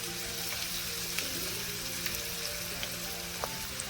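Boiled chana dal frying in a pan, a steady close sizzle with faint scattered pops and crackles throughout, no voices.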